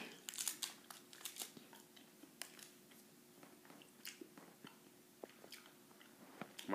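Close, quiet chewing of cherry Starburst chewy candy, with soft wet munching and faint wrapper crinkles in an irregular rhythm, no talking over it.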